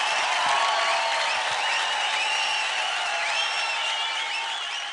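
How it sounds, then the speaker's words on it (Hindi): Audience applause on a televised dance show stage fills the room as a dense, sustained wash of clapping and crowd noise, loud and continuous throughout with bright whistling tones on top. "जोरदार तालियां हो जाएं टीम जोश के लिल मास्टर अतुल और अवनीत के लिए"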